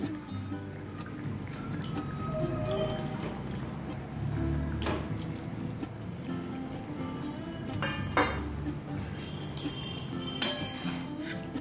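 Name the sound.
fried fish simmering in boiling broth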